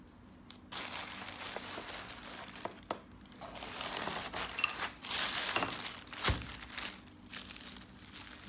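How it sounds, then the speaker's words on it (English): A knife works through a ripe jackfruit, giving a continuous close crackling, crunching and rustling that rises and falls in waves with a few sharper snaps, and no talk. "So I've got a nice piece of jackfruit, ripe jackfruit. So I'm just going to cut it."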